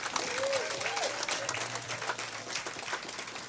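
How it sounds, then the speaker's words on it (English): Audience applause honoring a Command Sergeant Major at a veterans tribute event, a steady dense wash of clapping filling the whole stretch, with a brief murmur of voices early on. "a round of applause for Command Sergeant Major Charles David"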